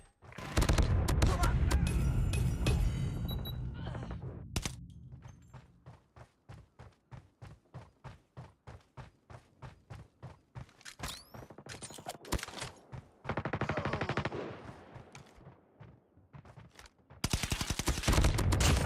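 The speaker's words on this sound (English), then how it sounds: "Sentry gun deployed." A deployed sentry gun in a video game fires in long rapid bursts of evenly spaced shots, with heavier gunfire bursts at the start and end and a brief whoosh midway.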